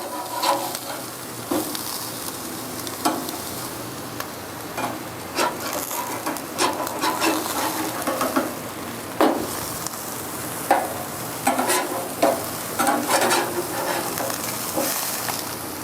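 Steaks searing on an electric grill right after being flipped: loud, steady sizzling with repeated scraping and tapping of a utensil against the grill surface, close by, with no talking.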